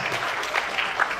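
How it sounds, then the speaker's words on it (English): Audience applause rings out at a campus event, clapping for the moderators and speakers at the close of a session; a short, steady burst of clapping at moderate volume with no voices over it. "One more time, big round of applause for our moderators and our speakers"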